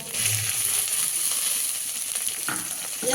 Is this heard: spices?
yes